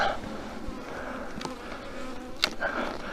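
Steady buzzing of many honeybees close by at a hive in September, a dense continuous hum with a few louder passes near the end.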